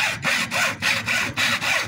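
A hand saw cuts through wood in steady back-and-forth strokes, about five rasping passes close up, with no one talking.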